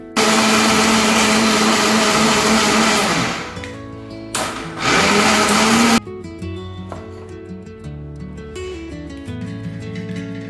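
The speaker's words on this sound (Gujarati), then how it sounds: "તો હવે આપણે મિક્સર જારમાં થોડું કરીને આપણે પીસી લેશું." A kitchen mixer grinder runs loud and close, coarsely grinding soaked lentils for dhokla batter with a harsh, steady whir. It cuts out briefly, bursts on again, then settles into a lower, quieter hum.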